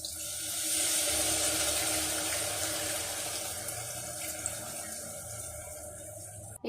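Tamarind juice pours steadily into a pan of egg pulusu, making a continuous, close splashing rush that lasts several seconds before stopping abruptly.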